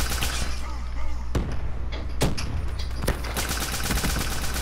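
Gunfire rattles in a shooter video game, with dense bursts of automatic fire and a few sharp louder shots over a constant low rumble, while players talk faintly underneath.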